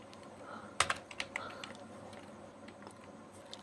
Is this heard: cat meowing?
no